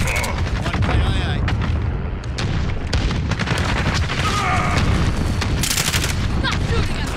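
Heavy gunfire in Call of Duty Modern Warfare Ground War rattles in dense bursts aimed at the player, loud and continuous with booms, and a voice talks over it.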